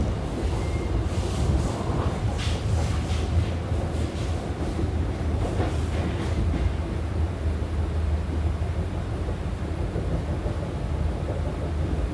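Inside the Argo Cheribon executive-class train running on the rails between Tambun and Bekasi, a steady, loud rumble and rushing noise fills the cabin without pause, with no talking.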